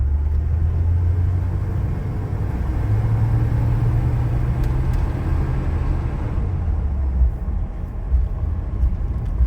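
A 1984 Chevy C10 pickup with a 305 engine and 350 turbo transmission cruises slowly through a neighborhood, its low engine rumble and road noise steady and close throughout, with no talking.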